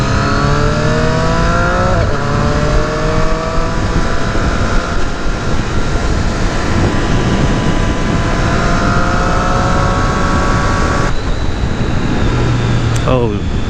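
A 2018 Triumph Street Triple RS motorcycle engine runs loud and continuous while riding, its pitch climbing and dropping through gear changes with steady wind rush beneath.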